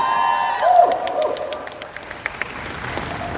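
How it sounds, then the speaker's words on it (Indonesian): Audience applause and cheering at a Han So-hee fan meeting in Jakarta, a steady crowd wash with a louder swell early on and scattered sharp claps, while a musical tone sustains underneath. "kita kasih tepuk tangan dong."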